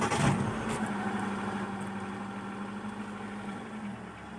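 A Hyundai Atoz engine cranks and catches, then settles into a steady, even idle with a low constant hum, close up and with no talking.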